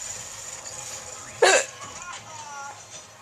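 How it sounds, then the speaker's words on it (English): A single sharp hiccup pops out suddenly and close, standing out against a quiet background with faint murmuring talk around it. "I know these hiccups are annoying"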